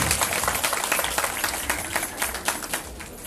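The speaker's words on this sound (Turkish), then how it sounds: "Alkış." Wedding guests applaud at a civil marriage ceremony held at a swimming pool venue in Çan, a dense, steady patter of many hands clapping together for several seconds with no one speaking over it.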